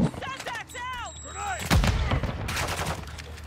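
A single heavy sniper rifle shot from Call of Duty DMZ booms out with a deep low thump and a crackling tail, preceded by chirpy tonal game sounds, with talk faintly present.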